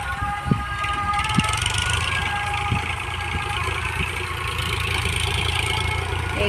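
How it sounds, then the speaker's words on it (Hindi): Two tractors from Vidisha run steadily while leveling a farm field, a continuous mid-to-low engine drone with a few faint knocks and clanks over it, no talk. "चल रहे हैं 2-2 विदिशा के ट्रैक्टर"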